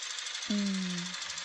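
A car engine in trouble during a horror comedy skit gives a brief, steady low drone that rises out of background hiss and fades after about half a second.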